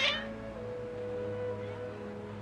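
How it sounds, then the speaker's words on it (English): Agitated house cats meowing, drawn-out tonal cries that hold steady across the whole span, moderately loud with a faint hum underneath and no other sounds competing. "Your cats seem pretty worked up."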